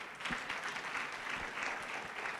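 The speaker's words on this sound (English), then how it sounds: "You can clap for her, everyone." Audience applause fills a spiritual gathering, a steady wash of many hands clapping at moderate loudness, with a few sharper individual claps standing out and no talk over it.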